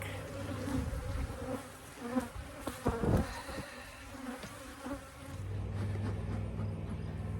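Honeybees buzz around a queenless hive in a dense, continuous drone, with a few sharp knocks and clicks standing out briefly near the middle.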